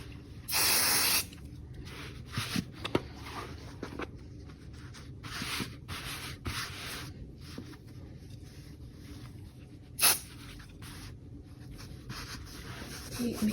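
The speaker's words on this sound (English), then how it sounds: "you can secure the backing on with either the spray like I have here" A loud hiss of spray adhesive from an aerosol can, one long burst near the start and a short one later, with quiet handling noises between.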